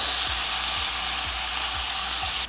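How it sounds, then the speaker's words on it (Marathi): Onion and potato pieces sautéing in a hot pan give a steady, close bright sizzle, with soft low scraping strokes of a spoon recurring about twice a second. "आता कांदासुद्धा एक दोन तीन मिनिटं परतून घेऊ"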